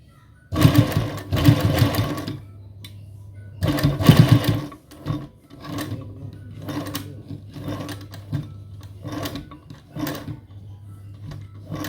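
Sewing machine double-stitching the cuff of a salwar, running in loud bursts of rapid mechanical whirring separated by short pauses, with several short stitch runs toward the end and no talking.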